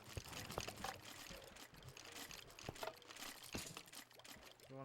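Water placed from a bucket in Minecraft Bedrock trickles and pours steadily as it spreads into a fish-farm channel. The flow is faint and continuous under soft game ambience.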